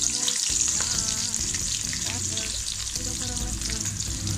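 Three large sliced onions sautéing in oil in a pan for quail biryani, a loud continuous sizzle with crackling and occasional stirring scrapes, close up and without talk.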